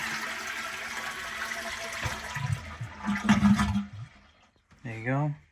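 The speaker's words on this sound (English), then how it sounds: "Flush the toilet." A household toilet is flushed before a bidet seat is installed, a loud rushing gush of water that swirls and drains away, then quiets before someone speaks briefly near the end.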